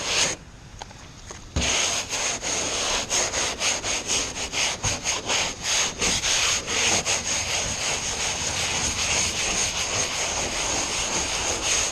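Brush scrubbing a painted hood stripe on a car, a harsh rhythmic scraping of repeated back-and-forth strokes, close and fairly loud, starting after a short quieter moment.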